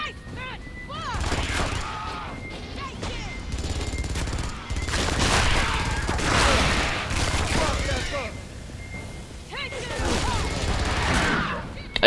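Loud, rapid bursts of gunfire break out repeatedly in an Aliens vs Predator marine campaign, close up and dense, with short pauses between volleys and voices heard in between.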